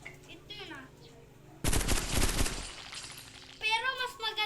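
A burst of rapid gunfire from a Minecraft plane-battle game rattles for about a second. People talk before and after the shots.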